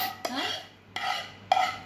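Beetroot jam stirred with a spoon in a pan, heard as three scraping strokes spaced about evenly. Each stroke starts with a light clink against the metal. Close and moderately loud, with no talking.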